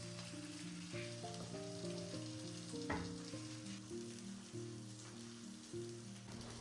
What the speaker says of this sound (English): Now, in a pan, I have applied some butter and then placed the potato slices one by one.